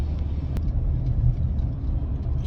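A car driving down a town street, a low, steady engine rumble and road noise heard from inside, with a brief click partway through and no speech.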